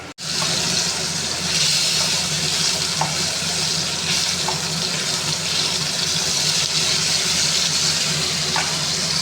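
Fish frying in oil, for a home-style dish with radish, makes a loud, continuous sizzle with a bubbling, watery texture and occasional small pops, heard close and alone.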